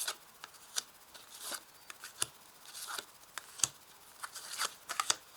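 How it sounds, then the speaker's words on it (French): Tarot cards are laid out one by one, with soft papery slaps and flicks at an uneven rhythm, quiet and close, with no voices. "Alors, je vais placer les cartes."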